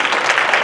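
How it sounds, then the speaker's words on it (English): Brief burst of audience applause at a chamber of commerce state-of-business event, dense steady clapping from a crowd for under a second. "So just give yourselves a round of applause for that."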